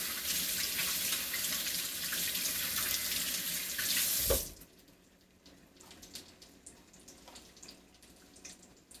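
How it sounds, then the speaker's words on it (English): A kitchen tap runs steadily as hands are rinsed under it while eggplant parmesan cooks, a close, even water rush that stops abruptly, leaving faint room noise and small clicks. "Rinse my hands real quick."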